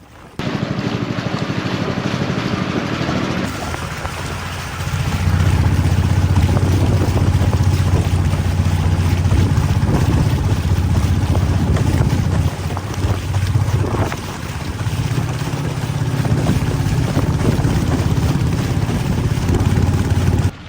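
A long tail outboard engine bought from Amazon drives a homemade kayak, its motor droning steadily at close range under heavy wind buffeting on the microphone, the pitch rising when throttled up partway through.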